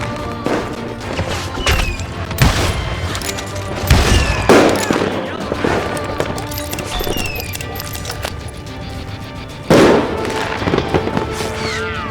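Gunfire in Call of Juarez Gunslinger, a string of sharp revolver and rifle shots with echoing cracks, spaced irregularly across a noisy battle with ricochet whines and heavier booms.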